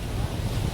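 Ocean waves at Miramar beach in Goa roll in with a low, rumbling surge, mixed with strong wind buffeting close to the microphone.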